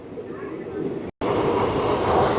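The Haldia–Asansol Superfast Express (22329), running near Durgachak Town toward Kharagpur Junction, gives a steady, loud rolling rumble from on board, broken by a split-second dropout.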